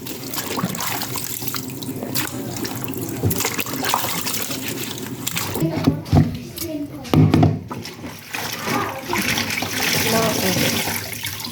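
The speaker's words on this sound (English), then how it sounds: "I'm preparing the pumpkin leaves, washing them one by one because they have a lot of soil" Pumpkin leaves being washed one by one in water to remove soil, with steady splashing and running-water sounds throughout, brief louder sloshes midway, and a voice talking over it.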